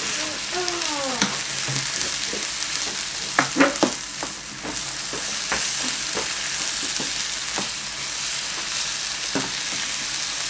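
Drained noodles and sauce stir-fried for chicken or pork chow mein, a close, steady frying sizzle with frequent sharp clacks and scrapes of a utensil against the pan, no speech.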